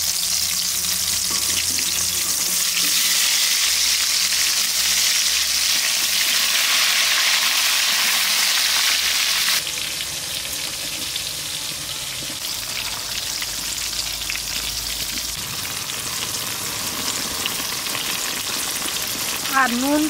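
Wet raw mango pieces hit hot oil for a homemade raw mango pickle, setting off a loud, crackling spatter that eases into a quieter, steady sizzle partway through, with no voices.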